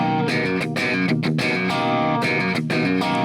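A distorted electric guitar holds a chord hit for its full length, ringing thick and sustained through effects with a few brief choppy dips, loud and alone.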